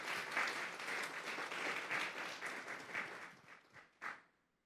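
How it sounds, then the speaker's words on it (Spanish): A church congregation claps during a Sunday morning service, a fairly quiet round of many hands that thins into a few scattered claps and stops. "Vamos a darle un fuerte aplauso pues al Señor esta mañana."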